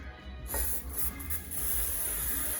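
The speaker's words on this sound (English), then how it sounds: "so to spray it on there so that the crust doesn't stick to it" A steady aerosol hiss of cooking spray into a deep dish pan, fairly close, with a short pause before the spraying resumes and continues to the end.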